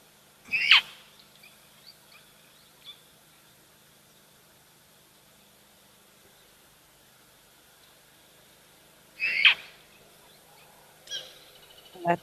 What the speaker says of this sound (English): I think it's a Birchall starling that's chatting away now.